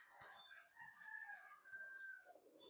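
Birds calling outdoors, with a rooster-like crow and clucking fowl among them, heard at moderate distance over faint footsteps and rustling.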